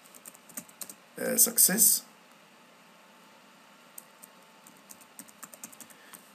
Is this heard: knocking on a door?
no